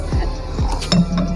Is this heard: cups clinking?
yes